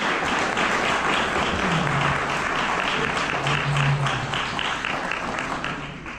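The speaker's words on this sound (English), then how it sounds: "Let's give our candidates a round of applause." Audience applause for sheriff candidates at a county candidate forum, a loud continuous rush of many people clapping that holds steady and begins to taper at the end.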